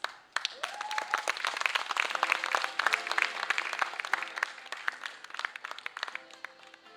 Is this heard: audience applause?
yes